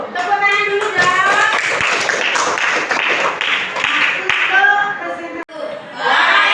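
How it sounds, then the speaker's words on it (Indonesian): Students in a classroom clap together loudly and steadily for several seconds, with voices and chatter mixed in, a brief dip near the end before the clapping swells again. "Tepuk tangan dulu dong."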